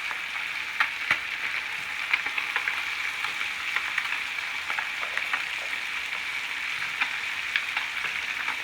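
Fish sizzles steadily in melted butter in a hot pan on medium-high heat, a dense even frying hiss with scattered small pops and crackles, close and continuous with no talking.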